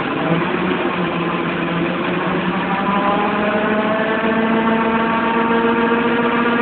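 A running engine, with the spark retarded, holds a steady, even drone with a smooth humming tone throughout, close and fairly loud, with no voices.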